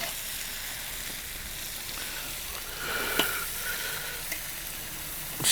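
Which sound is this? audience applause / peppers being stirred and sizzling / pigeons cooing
peppers being stirred and sizzling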